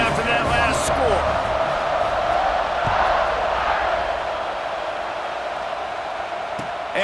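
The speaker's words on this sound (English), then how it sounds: "this crowd is buzzing after that last score" Steady roar of a stadium crowd buzzing in EA Sports College Football 26 after a score, a dense continuous wash of voices at even loudness throughout, with faint game announcer-style talk mixed in.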